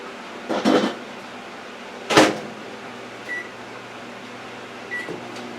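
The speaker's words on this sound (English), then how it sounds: "I'm going to put this in the microwave for 1 minute" A microwave hums steadily after a couple of clunks from the door and buttons, with two short electronic beeps along the way.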